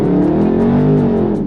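Dodge Scat Pack muscle car under hard acceleration, its engine roaring loud and close, the pitch climbing steadily over a brief burst.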